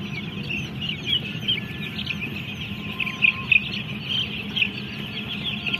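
Chickens cluck and squawk in a poultry shed at dusk, a dense, fairly faint chorus with a few sharper calls standing out over a constant low hum.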